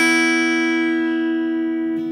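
Two low guitar strings, slightly out of tune, ring together in a single sustained strum that slowly decays, with a faint beating between the pitches and a quick touch of noise near the end.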